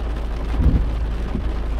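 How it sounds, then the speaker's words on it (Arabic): Heavy rain pours steadily over Al Hoceima, a dense continuous wash with low rumbling swells partway through, loud and close with no talking. "هاد الشتا مجهد"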